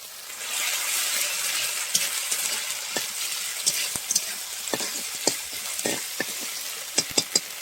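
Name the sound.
ginger, onion and green chili paste frying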